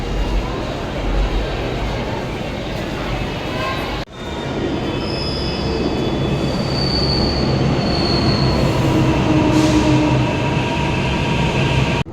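Delhi metro train in motion, heard from inside the carriage as a loud steady rumble and rolling roar with wheels squealing on the rails, a brief dip midway, and faint voices underneath.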